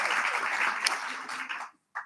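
Attendees at a gender summit in Durban applauding themselves, a brief fairly faint wash of clapping that tapers off and cuts out near the end.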